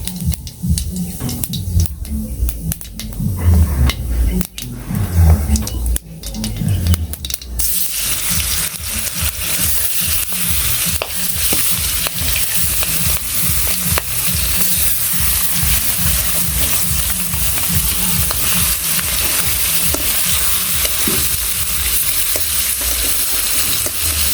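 Cumin and radhuni seeds tempering in hot oil for a Bangladeshi village dish, heard as a close, steady sizzle with a busier, lumpier start that settles into an even hiss over faint rhythmic stirring taps.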